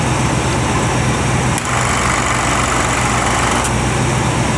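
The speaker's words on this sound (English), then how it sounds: "Compressor's a little noisy." A car air-conditioning compressor runs loud and continuous with a steady engine drone. The close, unbroken mechanical noise stays dense throughout, with no talk.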